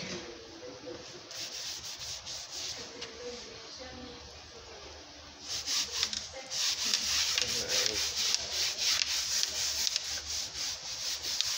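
Chair being wiped down with Clorox disinfecting wipes, a close, steady rubbing and swishing that grows louder and more rhythmic halfway through, with no talk.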